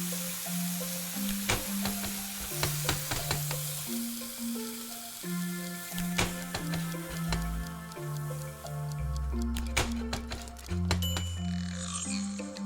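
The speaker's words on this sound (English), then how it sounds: "Into the frying pan." Salted potatoes frying in a pan, a steady sizzle running throughout, with pops, drips and repeated tonal clanks and knocks over it.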